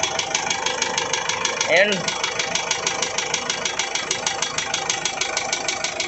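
An Isuzu 4JH1 engine with heavy knocking, suspected in the crankshaft or crank pin, idles with a steady, rapid metallic knock close up; a voice briefly speaks partway through.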